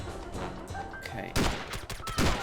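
Gunfire in the video game SOCOM 2, with a cluster of sharp shots and rapid bursts cracking close and loud in the second half over a busy background of game sound.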